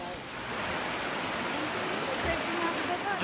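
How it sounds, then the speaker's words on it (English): Steady broadband rushing of Waimea Valley's Wailele Waterfall in Hawaii, continuous and fairly close, with a faint voice or two underneath. "We made it to the waterfall."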